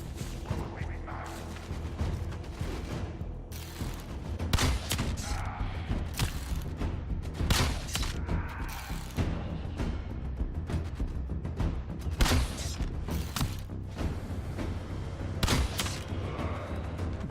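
Gunfire and thudding impacts in the futuristic shooter game Warframe, a dense run of shots and booms over a steady loud backdrop of game sound.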